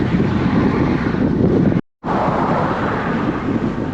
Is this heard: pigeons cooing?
no